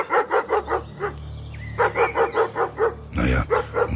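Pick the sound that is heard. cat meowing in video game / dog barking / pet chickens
dog barking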